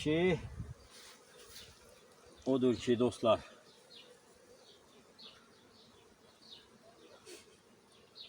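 A low, steady hum of buzzing bees fills the background throughout, with someone speaking briefly over it near the start and middle.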